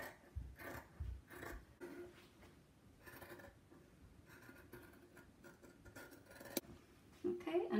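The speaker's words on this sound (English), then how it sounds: "find when I'm cutting, it's very useful not to close the blades of the scissors fully" Scissors snipping through calico fabric while a blouse sample is cut, quiet close crunching cuts in irregular bursts with a person talking over them.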